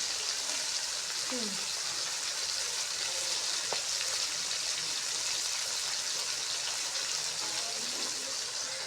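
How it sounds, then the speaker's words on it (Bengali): Fish frying in a pan of oil, a steady, even sizzle that runs unbroken for the whole stretch at moderate loudness, with no one speaking. "সুন্দর ভাজি হচ্ছে মাছটা"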